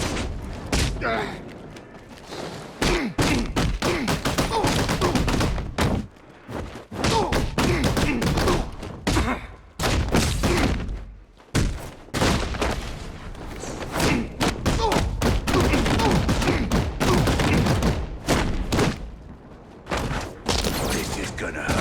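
Gunfire in the video game Batman Arkham Knight comes in loud, rapid bursts mixed with thuds and impacts, almost constant through the scene, with game dialogue over it.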